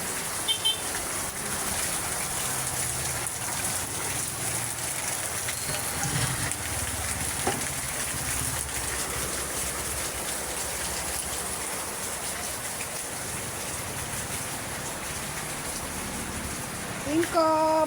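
Steady rain hisses continuously at night, a dense wash of falling drops, with a few faint bumps and a brief voice near the end.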